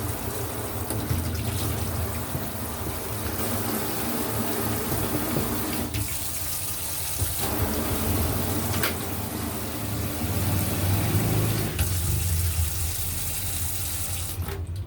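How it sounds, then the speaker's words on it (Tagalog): Strong, steady water gushes from a newly connected faucet fed by fresh pipe, a loud continuous rushing that holds level throughout with faint knocks and clicks over it. "napakalakas ng daloy ng ating tubig"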